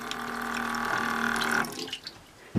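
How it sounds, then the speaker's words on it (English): A small USB-charged pump pushes water that runs and splashes steadily into a container for about a second and a half, then the flow thins to trickles and drips, ending in a brief gurgle. "this is a USB charged pump. Ta-da! Water."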